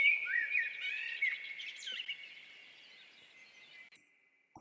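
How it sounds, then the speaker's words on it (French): Birds chirping and singing in a garden, a bright clear call up front that fades away over a few seconds, heard alone without voices. "avec mon H4, j'avais des super records d'oiseaux"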